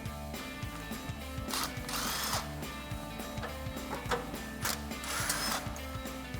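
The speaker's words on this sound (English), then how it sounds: "we can grab a 10mm socket for our two bolts holding in our hanger" A 10mm socket ratchet backs out the exhaust hanger bolts on a 2021-2024 Ford Bronco, giving steady, rapid pawl clicks in repeated bursts, close and clear with no talking.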